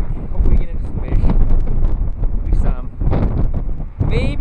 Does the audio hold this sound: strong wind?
yes